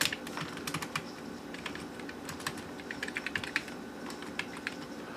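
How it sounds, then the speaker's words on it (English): Typing on the keyboard of an Apple iMac G3, a rapid, irregular run of close, crisp key clicks with small pauses between bursts, recorded indoors with no talking. "So I guess this is a good opportunity to test our new keyboard."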